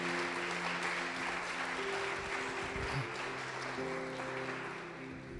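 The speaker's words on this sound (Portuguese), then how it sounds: "Pode aplaudir o Senhor Jesus" A church congregation applauding during a service, a dense, steady spread of clapping from many people mixed with sustained keyboard tones, holding evenly and thinning slightly toward the end.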